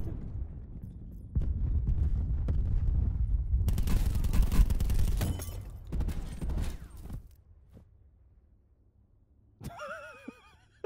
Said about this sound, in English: I just heard all the gunfire